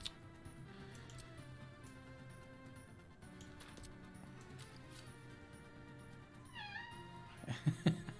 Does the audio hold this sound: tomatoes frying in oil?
no